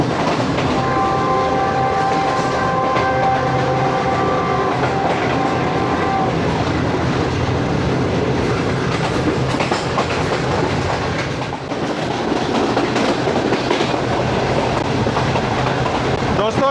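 Shalimar Express train on the Lahore route running steadily along the rails, a loud continuous rumble and rattle of the carriages from inside, with a sustained horn-like tone through the first few seconds.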